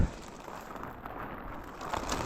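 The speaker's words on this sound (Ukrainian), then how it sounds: "пустився дуже такий хороший дощ" Steady heavy autumn rain falling through a forest, a dense continuous hiss of drops on leaves and ground, fairly close and even throughout with no voices.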